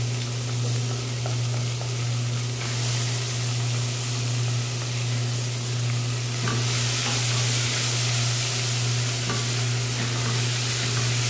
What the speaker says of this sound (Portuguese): Vou agora acrescentar o alho e a cebola.